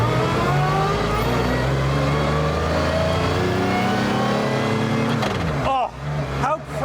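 Mercedes-Benz CLK GTR hypercar engine roaring close up while driving, a loud sustained drone that holds steady then dips and surges as the revs fall and rise again near the end.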